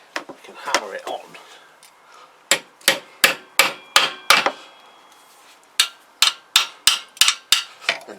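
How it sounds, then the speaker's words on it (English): Sharp hammer blows drive a part onto a Kawasaki GPZ500S motorcycle swingarm. They come in two quick rhythmic bursts of about five and six strikes, with a few scattered taps and handling knocks at the start. "we can hammer it on."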